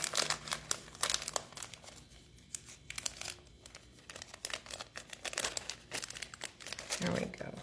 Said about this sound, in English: I'm going to put these back in their cello envelopes so that they don't get damaged